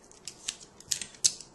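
Scissors trim a small strip of craft paper with a few quiet, crisp snips spaced irregularly, close up and otherwise silent.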